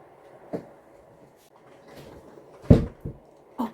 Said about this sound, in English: Oh, close the door.